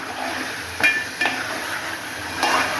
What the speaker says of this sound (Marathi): आता मसाला भाजत आहे